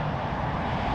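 Airplane flyby in a flight simulator game flown into bad weather, a steady loud engine roar and broadband rush held for about a second with no talking.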